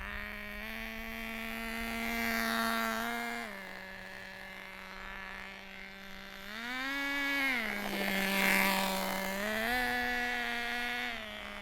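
A nitro RC truck engine runs at a high idle, a buzzing, whiny tone that rises and falls in pitch several times as the throttle is blipped, heard fairly close and alone.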